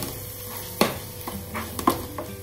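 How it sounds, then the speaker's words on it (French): Stuffing mixture with saffron being stirred in a pan for stuffed squid with rice, giving a few soft scrapes and clinks of the spoon against the pan over a faint background hiss, with no talk. "On mélange bien le tout."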